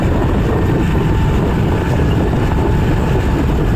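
Motorbike riding along a riverside road, a loud continuous rumble mixed with heavy wind buffeting, steady and close throughout with no pauses.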